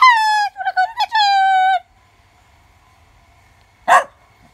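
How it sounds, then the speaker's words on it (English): A dog barks near a rabbit's new outdoor run: a drawn-out, whining harmonic yelp of nearly two seconds, then a quiet pause and one short, sharp bark, fairly close. "not bothered one bit about the dog barking"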